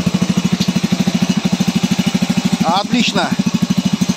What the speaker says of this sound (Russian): Сейчас подрегулировать надо еще карбюратор. На остатках бензина работает